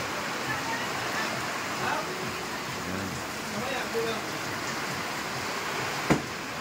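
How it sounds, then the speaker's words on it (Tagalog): Steady heavy rain from a typhoon pours down in a constant broadband roar, with someone speaking briefly over it and a sharp knock near the end. "napakalakas ng ulan"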